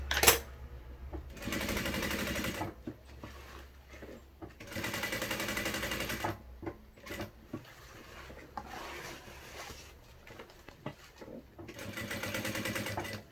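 A sewing machine reinforces a backpack strap with a square, an X and backstitching, running in several close, loud bursts of steady whirring separated by short pauses and clicks of fabric handling.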